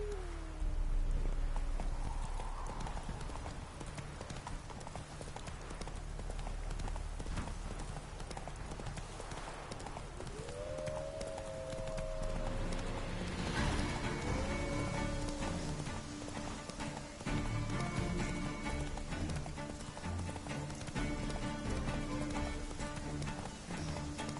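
Hooves of a horse in The Witcher 3 clip-clop steadily at a gallop, loud and continuous throughout, with game music tones and ambient rain-like patter underneath.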